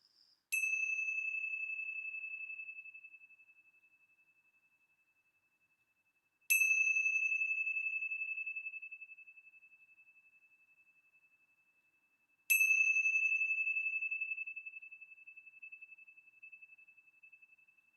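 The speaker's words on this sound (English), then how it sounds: "let's begin our time with the ringing of the bells" Three clear bell strikes, evenly spaced about six seconds apart, each ringing out in a long, pure tone that slowly fades in a quiet space.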